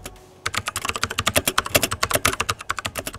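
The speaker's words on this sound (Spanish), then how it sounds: "El azul, que es el que probamos nosotros, se caracteriza por ser el que más respuesta da a las pulsaciones, aunque como podéis comprobar," Rapid, loud typing on a Kross gaming keyboard with blue mechanical switches, a dense run of sharp clicky keystrokes in an irregular rhythm, close up and alone after a brief quiet start.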